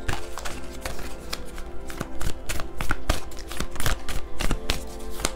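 Oracle cards being shuffled by hand, a rapid run of crisp riffling taps and flicks, close and continuous for several seconds with no talking.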